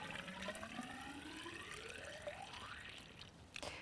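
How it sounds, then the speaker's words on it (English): Stirred water sample poured into a clarity tube, the filling sound climbing steadily in pitch as the tube fills to the top, close and continuous with a faint splash at the end. "pour your stirred sample into your clarity tube"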